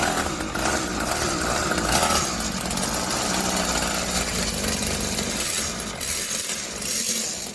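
Two handlebar-less mopeds with their engines running, a steady rough buzzing drone that holds loud and close throughout with slight fluctuations in revs, no talking.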